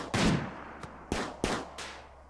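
Gunfire from the video game RimWorld sounds as four or five sharp shots in an uneven sequence, the first heaviest and the rest lighter and quickly spaced.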